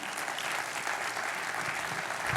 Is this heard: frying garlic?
no